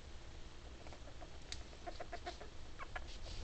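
Pet bird Kuma makes a few short, faint chirping calls against a steady background hiss, with soft clustered notes in the second half.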